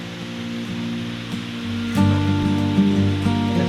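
Small waterfall beside a road in Costa Rica, a steady broadband rush of falling water that swells louder about halfway through, with some tonal engine-like hum mixed underneath.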